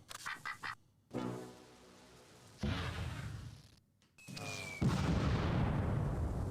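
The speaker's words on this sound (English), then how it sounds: "Is this a mortar round already zeroing in on me?" Mortar rounds in the Close Combat 2 video game land in a series of heavy, rumbling booms. Some are preceded by a whistling whoosh, and the blasts grow louder and longer toward the end.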